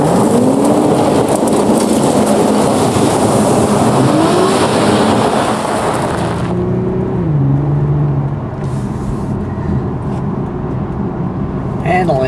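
A 2013 Infiniti G Convertible IPL on an open road makes a constant roar of engine and tire noise that shifts as it eases off, while someone talks over it throughout.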